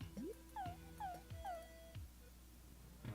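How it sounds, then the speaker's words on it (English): Beethoven the dog in the SNES game whimpering, several short falling whines in quick succession, clear and moderately loud over a low background tone, then quiet. "I hear the doggy"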